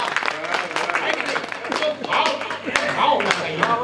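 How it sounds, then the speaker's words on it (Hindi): An audience at a Hindi poetry gathering claps in a brisk, uneven patter that runs the whole time, mixed with nearby voices. "ताली बजाओ।"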